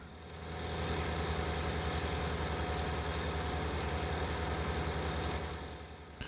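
A tractor in Farming Simulator 19 drives forward with a steady, loud low engine drone. It holds an even rhythm throughout and fades up at the start, with no talk.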